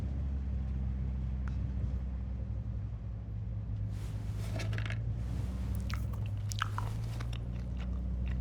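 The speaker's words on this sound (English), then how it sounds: "Ah, the chewing noises though." Chewing noises of a character eating raisins in the video game Destiny, crunchy bites and mouth sounds in the latter half over a steady low rumble of engine background.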